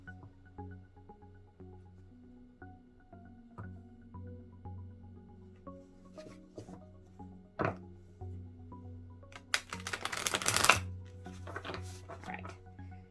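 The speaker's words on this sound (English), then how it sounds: "I'm gonna do one riffle shuffle" Riffle shuffle of a gilded-edge tarot deck: faint taps and handling knocks build to a dense, quick flutter of cards snapping together, lasting about a second, close and quiet over a low background hum.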